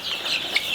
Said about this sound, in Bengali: এগুলো হচ্ছে ফার্মি মুরগির বাচ্চা।